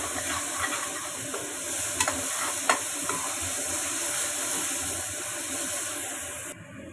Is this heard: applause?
no